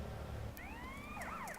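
Police car siren in the video game GTA San Andreas, rising in clear wailing sweeps after a brief low rumble, then switching to a faster, warbling yelp, loud and close.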